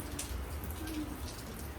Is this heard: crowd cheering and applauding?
no